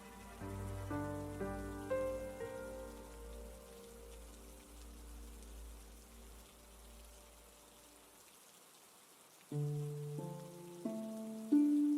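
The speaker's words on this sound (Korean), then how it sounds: "그리고 이내 비가 내리기 시작했다." Steady rain falls on a dark morning, a soft continuous patter under a slow musical score that fades and returns near the end; no one speaks.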